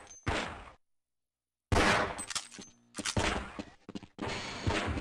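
Gunfire in Half-Life: Blue Shift comes in sharp, loud bursts: a quick shot, a pause of silence, then a string of close cracks and a longer burst of rapid fire.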